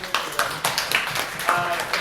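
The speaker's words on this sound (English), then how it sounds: "So a round of applause for them." Student senate meeting audience giving a round of applause for the election organisers, sparse clapping hands in a room with irregular claps over about two seconds.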